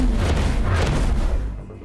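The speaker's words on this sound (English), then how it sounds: "Explosion there it goes." A space-combat explosion in the video game X4 Foundations bursts as a loud, dense boom with rumbling low end, sustaining for over a second before tailing off, with no talk over it.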